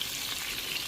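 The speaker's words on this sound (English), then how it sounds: "the beef will cool the oil and it will start boiling instead of frying" Chunks of beef frying in oil for goulash give a constant bright, crackling sizzle, close and even, with no voices over it.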